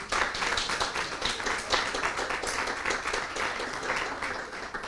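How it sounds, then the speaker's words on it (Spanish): A hall audience applauds a lecturing doctor after his talk on tax law, a fairly soft but continuous wash of many hands clapping at moderate distance. "pues un fuerte aplauso para el doctor Luis Montilla"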